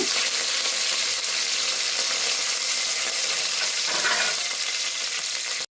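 Mustard seeds, crushed garlic, dried chillies and curry leaves sizzle in hot oil, a loud, dense, continuous crackle and hiss close by that cuts off abruptly at the end.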